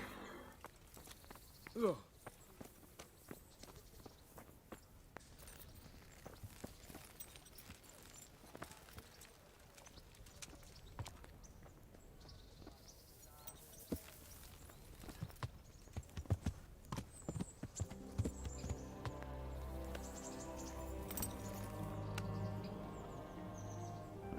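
Horse hooves clip-clop in a steady walking rhythm in the Kingdom Come: Deliverance video game, with faint birdsong and occasional voices, as a louder droning tone enters near the end.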